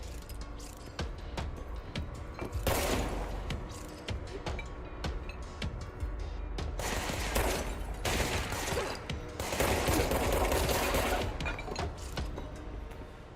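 Bursts of gunfire crack through windows in the video game Control, rapid clattering shots in loud clusters with mechanical rattles between volleys, close and dense, no talk.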